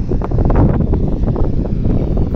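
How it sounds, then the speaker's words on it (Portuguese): Strong wind blows across a dam at Milagres on the São Francisco river transfer, with the floodgates open and releasing water. It comes as a loud, continuous buffeting roar on the microphone, steady for the whole moment with no voices. "Oh, rapaz, a ventania danada."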